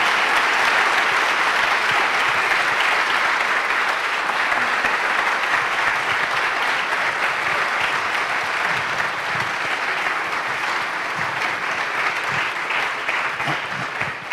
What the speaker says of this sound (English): Ladies and gentlemen, let's give a round of applause.